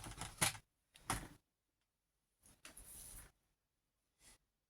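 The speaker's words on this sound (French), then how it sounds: "Je vais couper un peu ma base noire en laissant un petit chouïa." A black paper base for a handmade card is cut in a few short, crisp bursts of snipping and rustling, close and separated by quiet pauses.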